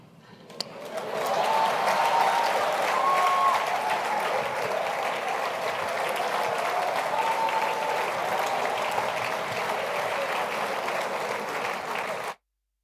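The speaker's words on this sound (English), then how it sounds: "A round of applause" A debate grand-finale audience in Nigeria bursts into loud, sustained applause that swells in quickly, with a couple of whistles or cheers riding on top, then holds a dense clapping roar for about eleven seconds before cutting off abruptly.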